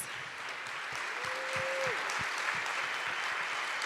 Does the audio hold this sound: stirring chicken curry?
no